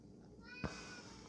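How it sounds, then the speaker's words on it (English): A pet cat gives a single short, faint meow indoors, a quick rising call against a quiet background. "That's my cat, I'm sorry."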